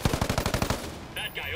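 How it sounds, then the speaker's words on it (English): Gunfire in a shooting video game: a quick burst of about eight rapid, evenly spaced shots in under a second, followed by a faint metallic ring, loud and close. "Incoming sniper fire!"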